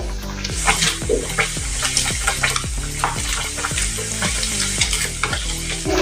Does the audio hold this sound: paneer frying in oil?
yes